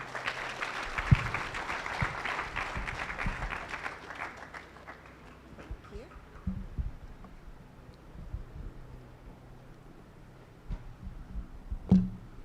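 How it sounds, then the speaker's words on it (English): Audience at an education and leadership congress claps for a few seconds, a moderate burst of applause that fades into quieter room noise with scattered knocks and faint voices. "Clap for him."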